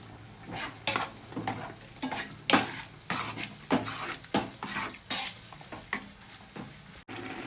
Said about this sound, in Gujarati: હવે તેને બરાબર મિક્સ કરી દેવાનું છે અને જ્યાં સુધી બધું દૂધ બળી ના જાય ત્યાં સુધી ગાજરનો હલવો મિક્સ કરતા રહીશું